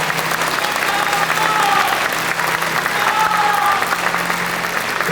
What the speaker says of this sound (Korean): 인사하실 때 큰 박수로 맞아주십시오.